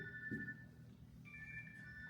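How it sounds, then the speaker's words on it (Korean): A faint electronic phone ringtone repeats its tone in a quiet room, soft and somewhat distant. "전화 왔어요."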